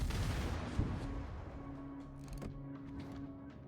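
Cruiser main guns firing in World of Warships, a heavy booming salvo at the start that rolls off into a long fading rumble, with no talk.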